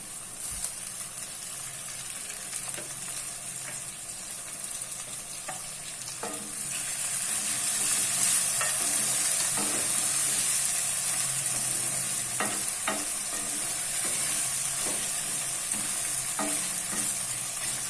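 Ginger sizzles steadily in hot oil for arbi curry, with tomatoes and green chillies joining it; a broad frying hiss swells partway through as the new ingredients hit the pan, punctuated by scattered stirring clinks, and no one speaks.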